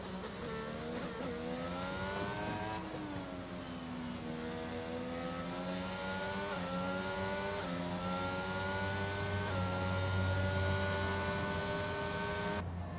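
A McLaren race car in a racing video game screams through a flying qualifying lap on the Hungarian Grand Prix circuit, its engine revving high and shifting through gears continuously and loudly, with no talk over it.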